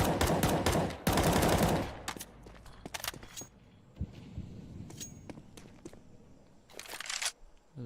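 Gunfire in Counter-Strike 2 during a tournament match: loud rapid bursts of shots open the scene, then scattered single cracks and short volleys, with another burst near the end.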